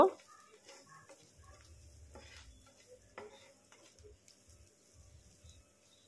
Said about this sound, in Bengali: সব কিছু আর একটু ভেজে নেব।